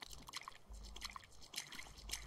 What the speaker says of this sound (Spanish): Me gusta el sonido del agua